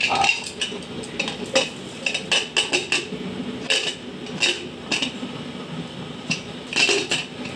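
A metal lid clatters onto a pot of beef trotter nihari, with repeated clinks and scrapes of metal against cookware coming in uneven bursts, close and moderately loud, with no talking.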